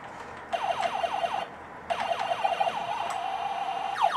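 Acorn Electron home computer beeper sound effect: bursts of quick, chirping downward-sweeping electronic tones over a faint background hiss. A brief gap in the middle, then the chirps resume.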